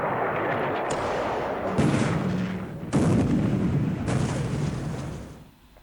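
Naval guns firing from escort ships during a Pacific War sea engagement in a strategy game, several heavy booming bursts in close succession over a continuous rumbling battle din, loud and without talk.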